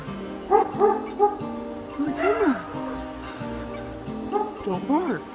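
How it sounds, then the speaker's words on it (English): A dog gives several short, close yips and bow-wow barks, some rising into whiny tones, mixed with a person's high-pitched talk to the dog. "Don't bark."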